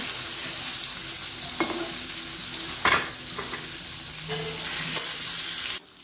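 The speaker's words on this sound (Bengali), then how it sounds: "মাছগুলি ভাজছি" Pieces of katla fish fry in hot oil with a steady, close hiss and crackle, broken by a few sharper spatters and stirring knocks, with no voices.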